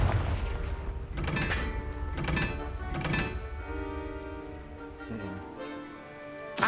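Confringo blasting spells erupt in Hogwarts Legacy, three loud booming bursts about a second apart followed by a softer fourth blast, over a steady game soundtrack.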